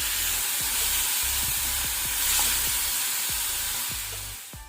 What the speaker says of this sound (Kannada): ಇದನ್ನು ಸಹ ಸ್ವಲ್ಪ ಫ್ರೈ ಮಾಡ್ಕೊಳ್ಳೋ, ಟೊಮೆಟೊ ಸಾಫ್ಟ್ ಆಗಲಿ